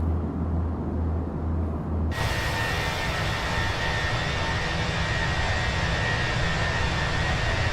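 A steady, loud roar of Fenix A320 jet engines heard from inside the cabin in a flight simulator, beginning with a low hum and then swelling into a constant broadband rush.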